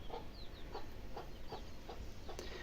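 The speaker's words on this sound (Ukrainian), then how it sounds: "Десь квочка привела курчат." A hen clucks softly in a repeated rhythm while faint high chick peeps sound over a steady outdoor hiss.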